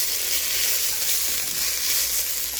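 Beef browning in a pot for braised beef stew, giving a continuous, even sizzle throughout without pause.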